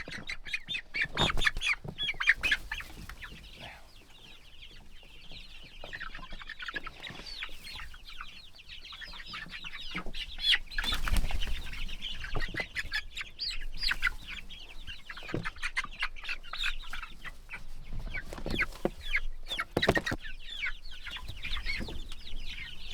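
Young chicks on pasture on their first time outdoors, clucking and peeping steadily in a busy flock, close and fairly loud, with occasional louder calls and some handling noise but no talk.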